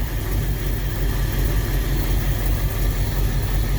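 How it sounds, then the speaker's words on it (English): A 1959 Ford Galaxie Fairlane 500 engine idles close by with a steady, low rumble without pause, a constant drone with no voices. "She is idling."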